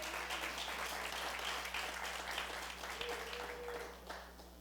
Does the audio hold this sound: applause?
yes